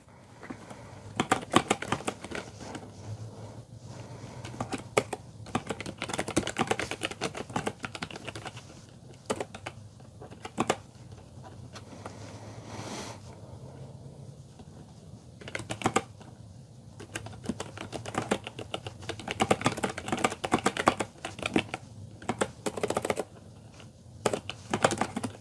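Typing on a ZeroWriter Ink, a distraught-free writing device with a slick-keyed mechanical keyboard, gives a long run of quick, uneven key clicks in bursts and pauses, close up and moderately loud, with no talking.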